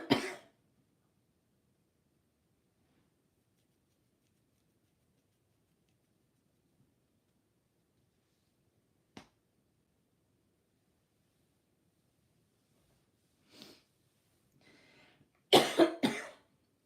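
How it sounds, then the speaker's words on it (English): A lingering cough left over after a cold: a few short, separate coughs and throat clearings, one near the start and a cluster near the end, with long quiet stretches between. "now I've just got the lingering cough"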